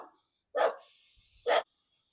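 Two sharp dog barks spaced about a second apart on a quiet disused railway rail trail, fairly distant and isolated against near silence.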